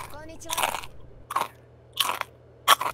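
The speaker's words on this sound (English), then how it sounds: "You need these crunchy-ass chips." Crunchy chips being eaten, four loud, close crunching bites spaced out over a few seconds, with a voice briefly heard at the start.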